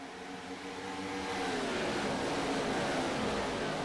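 Race car engines in a sim racing game at Michigan accelerating together on a restart, a steady, moderately loud droning roar that builds slightly and holds with no talk.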